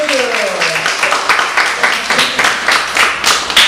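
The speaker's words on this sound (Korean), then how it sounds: "박수로 한번 격려하겠습니다." Applause from a church congregation, a dense patter of many hands clapping steadily, with a voice briefly speaking in Korean at the start.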